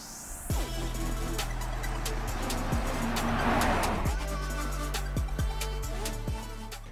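A 2022 Kia Niro full hybrid rolls along on electric power alone, with a steady road-and-tyre hum, a few rising whines and scattered bumps and clicks from the car.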